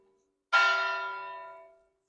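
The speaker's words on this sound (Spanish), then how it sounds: "Las campanas a lo largo de la visita nos van a ir dando la hora." A single church bell strike marking the hour rings out clearly at night in Écija, its bright metallic tone ringing and slowly decaying into silence.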